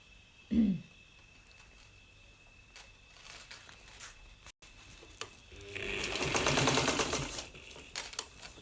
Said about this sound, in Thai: แล้วก็เย็บมานะ เย็บผ้าทับมาเนาะ